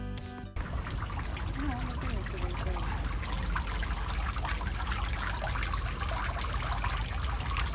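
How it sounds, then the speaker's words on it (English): A water fountain trickles steadily in a quiet Barcelona residential park, a close, continuous splashing stream with faint voices in the background. "There is a water fountain here."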